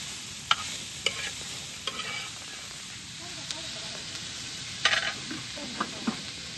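Onion roasting on a hot iron tava griddle in a home kitchen, a steady close sizzle and hiss with occasional sharp scraping taps as it is turned.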